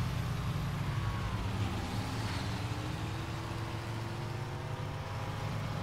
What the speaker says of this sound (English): The engine sounds pretty nice though